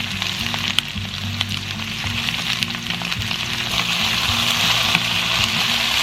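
Peppers and onions sizzle and crackle steadily in a hot pan, a close, continuous frying hiss that grows slightly louder toward the end, with no one speaking.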